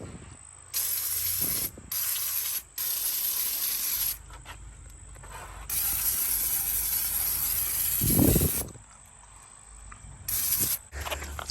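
Cleaner sprayed onto a 1965 Mustang 5.0 in several close, loud hissing bursts, some short and some long, with brief quiet gaps between them.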